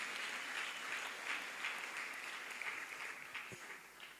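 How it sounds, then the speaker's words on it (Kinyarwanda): Congregation applauding in church, a soft, distant wash of many people clapping that holds steady and then gradually tapers toward the end, quiet overall. "Ndagira ngo dukomere Imana amashyi nawe tumushimire."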